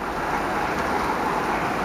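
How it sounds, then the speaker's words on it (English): Steady rain falling outdoors at night in New Orleans, a continuous even wash of hiss with no distinct drops or pauses, heard alone. "And it's raining out here"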